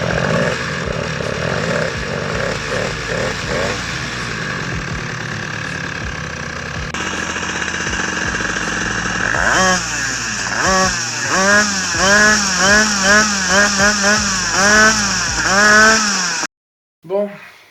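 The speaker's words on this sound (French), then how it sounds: "on va sortir la pocket, on va la démarrer et on va voir si elle stabilise à une certaine température" An MT4 pocket bike engine is started close by, first a rough, uneven run and then a buzzy idle that rises into a quick series of sharp revs before cutting off abruptly.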